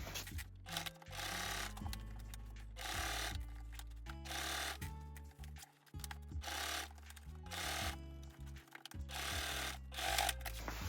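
A sewing machine stitches a green faux leather shoulder bag, its motor whirring in close, stop-start bursts of varying length with brief pauses between runs.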